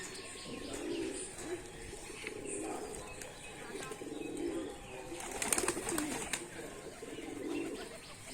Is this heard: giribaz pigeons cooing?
yes